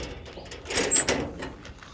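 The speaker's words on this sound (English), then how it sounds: "I'll just go ahead and close that door." A storage compartment door on a tree service chip truck slides and shuts with a short scraping rush and a soft thud, close and brief.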